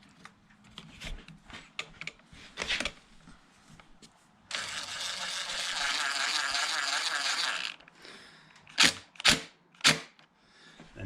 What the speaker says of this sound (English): So now we're going to pop our T25 screws back in.